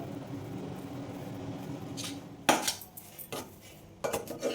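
Almond powder stirred into a coconut laddu mixture, with quiet background hum, then several sharp metallic clinks and scrapes of a spoon against a vessel.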